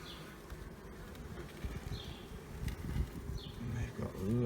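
Honey bees hum in an opened spring hive, a low continuous buzz with occasional louder close passes, and a few faint bird calls above.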